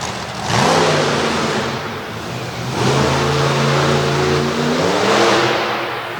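Monster truck engine revving hard at the Monsters of Destruction show in Corbin, two long surging throttle bursts with a dip between, loud and close, rising and falling in pitch.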